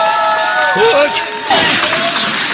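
A large crowd in Iran roars and cheers loudly and continuously, mixed with overlapping voices and shouts.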